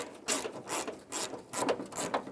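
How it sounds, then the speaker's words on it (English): A socket wrench ratchet on an extension clicks as it loosens a 10mm bolt on a 2013-2017 Honda Accord, several short close ratcheting strokes with brief pauses. "there's a 10mm bolt here that you can reach in with an extension and a socket to get to it. Break it free and remove it."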